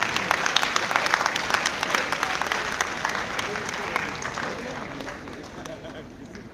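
A crowd claps steadily in dense, sustained applause, loud at first and gradually thinning toward the end.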